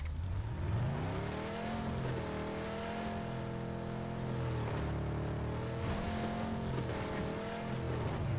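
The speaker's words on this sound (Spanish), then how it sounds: "Dos coches a mi izquierda" Cars driving in the video game PUBG on the Miramar desert map, with engines revving and shifting pitch as they accelerate, a continuous moderately loud drone with occasional tire squeal.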